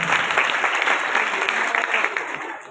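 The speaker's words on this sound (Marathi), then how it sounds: "या सर्व अन्नदात्यासाठी एकदा जोरदार टाळी वाजून स्वागत करायचं" Steady, dense applause from a crowd at a Marathi kirtan gathering, sustained and fairly loud throughout before tapering slightly at the end.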